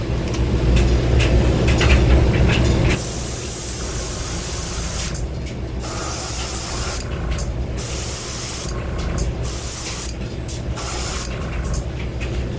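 An airbrush sprays straight Wicked Yellow paint in a close, loud hiss, first one long steady burst, then several shorter bursts separated by brief pauses over a low background rumble.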